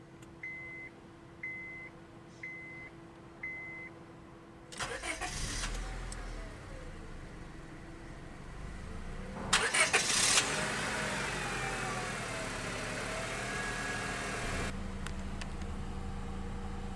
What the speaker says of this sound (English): And now, let's go ahead and start it up.